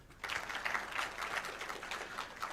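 A company audience claps for the legal department at a corporate event, dense steady applause filling the room with rhythmic clustered claps throughout.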